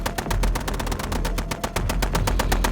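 Sustained heavy automatic fire from Warhammer 40k twin heavy bolters providing covering fire at a landing zone, a dense unbroken stream of loud, rapid, evenly spaced booming shots with no voices.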